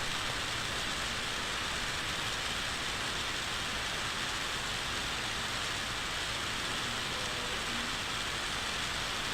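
Steady rain falls on a rainy day, a constant broadband hiss of drops on surfaces that stays even and unbroken throughout, with no voices.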